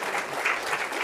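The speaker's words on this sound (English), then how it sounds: "Can we give Dr. Franklin a round of applause, please?" A seated audience at a Marquette Law School public-affairs talk gives a steady round of applause for the guest speaker, dense, even clapping filling the room from start to end.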